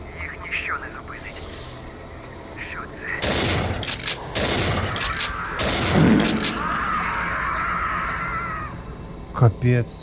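Several sharp shotgun blasts ring out at close range in the video game S.T.A.L.K.E.R.: Lost Alpha, mixed with clattering game noise and someone talking over the action.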